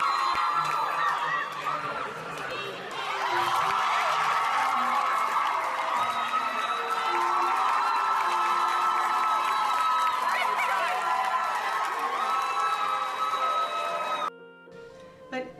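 A school game crowd cheers and shouts loudly and continuously for about fourteen seconds, with whoops and clapping mixed into a dense roar before it cuts off abruptly.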